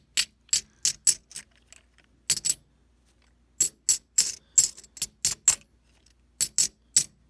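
Silver bullion coins clinking together in short, bright bursts, several quick clinks per group with brief pauses between groups, close and fairly loud with no talking.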